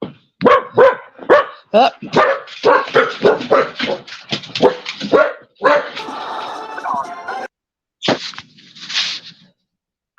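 Dogs barking indoors in a home, a run of loud repeated barks and yips close by, then a brief pause and a few more barks at the end, with a voice murmuring once.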